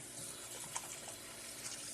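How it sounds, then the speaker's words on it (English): Water runs steadily from a kitchen tap for rinsing while making portabella mushroom tacos, a faint, even hiss with no other sounds. "Let me just rinse up real quick."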